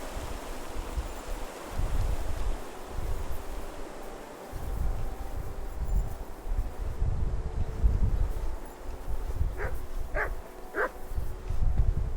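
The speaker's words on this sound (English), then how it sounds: "You silly doggy. You shouldn't be walking around by yourself." A dog in the medieval open-world game Kingdom Come: Deliverance II barks and yips three times in quick succession near the end, over a constant rushing outdoor ambience that sounds like a stream.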